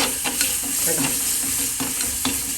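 Tomatoes being mashed and stirred in a frying pan while cooking down for a fish masala, steady close sizzle with repeated soft scraping and pressing strokes throughout, no talk.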